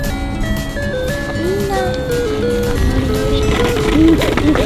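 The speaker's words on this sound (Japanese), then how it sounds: "トーマスのあー音楽メロディーボタン" A bright electronic toy melody from a Thomas the Tank Engine music melody button plays in a steady tune, with background noise and busy voices around it.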